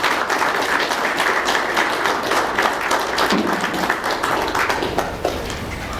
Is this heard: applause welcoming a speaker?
yes